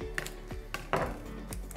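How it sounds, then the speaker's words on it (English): A knife finely dices a medium-sized onion, producing a quick run of crisp, evenly spaced chops at close range. "So I'm gonna start off by chopping down our onion."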